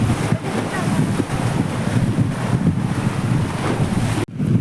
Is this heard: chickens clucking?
no